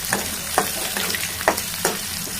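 Onions sizzle and crackle in hot oil with mustard seeds, cumin, fenugreek and dried red chillies, with a few sharp scrapes of stirring, close and steady.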